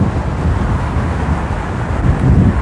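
Gusty wind roars loudly and continuously against the microphone while riding an Inmotion V11 electric unicycle, a dense low rumble with no voices.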